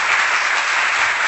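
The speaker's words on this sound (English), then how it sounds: "Every stage that he goes through should have a roaring round of applause" A loud, dense round of applause roars continuously as a sound effect, a close wash of clapping with no gaps.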